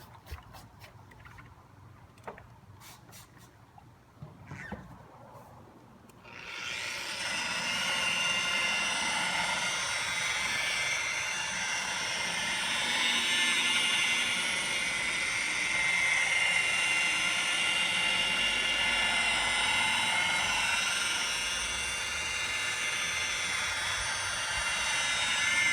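A sander fitted with a fresh 3M 800 grit hook-and-loop disc spins up after a few faint clicks and runs as a steady, loud whirring drone while sanding a car headlight.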